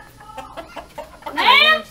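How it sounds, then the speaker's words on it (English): Chickens clucking and squawking at close range, with short calls early on and a louder burst of overlapping, rising cries near the end, alongside faint background voices. "Look at all them chickens."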